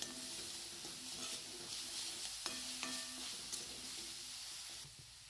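Grated coconut modak filling with milk and sugar is stirred and roasted in a pan, a soft continuous sizzle with faint scraping strokes of the spoon, quiet and close, without talk.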